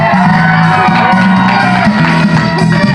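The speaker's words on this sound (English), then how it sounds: "This crowd's gonna go wild." A loud, continuous crowd roar with shouts and whoops sustained throughout, with a low steady tone running underneath, sounding like a large audience cheering wildly.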